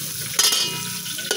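Onions hit hot oil in a pan while pork paklay is cooked, a continuous close sizzle with two brief bursts of louder crackle as the pan is stirred.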